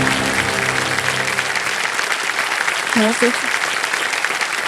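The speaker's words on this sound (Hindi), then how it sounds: "तालियां बजती रहे अपूर्वा जी को।" Studio audience applause on the KBC game show, a steady loud wash of clapping filling the room for several seconds, with a voice briefly heard through it.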